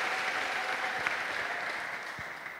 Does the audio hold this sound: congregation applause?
yes